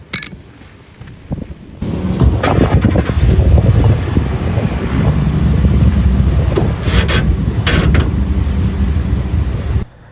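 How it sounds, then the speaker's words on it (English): A stock Ford F-150 pickup's engine roars and revs while stuck off-road, a loud sustained rumble that kicks in after a quiet start and holds steady with some wind buffeting until it cuts off near the end. "I'm in my truck right now, trying to shake this baby loose."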